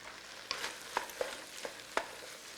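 Spices stirred into vegetables in a pot for corn chowder: faint, quiet sizzling broken by about half a dozen short scraping stirs at a fairly regular pace.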